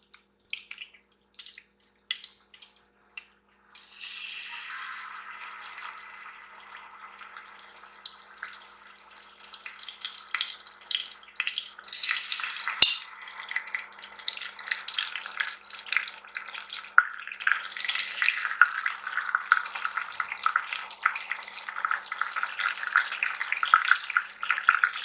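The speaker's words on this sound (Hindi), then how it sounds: "अब मैं इसमें एक एक करके फिश डालती जाऊंगी।" Masala-coated fish pieces frying in hot oil in a pan, a brief quiet start and then a dense, steady sizzle that grows louder, with one sharp click midway.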